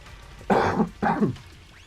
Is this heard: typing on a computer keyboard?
no